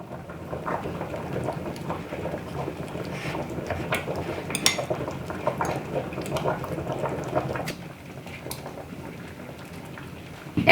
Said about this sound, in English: I just stir my noodles periodically just so they're not sticking together.